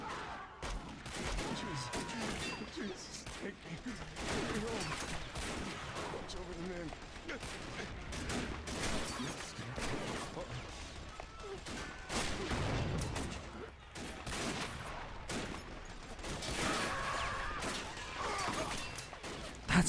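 Crackling musket volleys and heavy booms of artillery fill a Civil War battle in a video game, dense and continuous with overlapping blasts near and far, while voices talk underneath.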